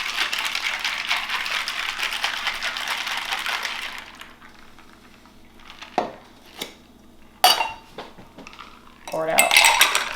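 A cocktail shaker is rattled vigorously for about four seconds, dense rapid clatter of ice against metal, followed by a few sharp clinks and knocks of the shaker being handled and opened.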